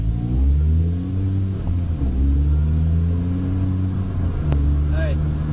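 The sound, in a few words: manual transmission car engine pulling away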